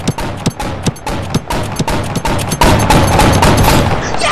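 Rapid bursts of cannon fire in the video game Flintlock Mayhem pound in a steady rhythm, loud and close, intensifying into a dense barrage toward the end.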